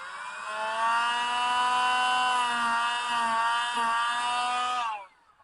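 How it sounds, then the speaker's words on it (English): A rotary tool cutting small slits in metal for a wood stove gives a loud, high, steady whine that shifts slightly in pitch, then winds down and stops within seconds. "What I did is I used a rotary tool like this."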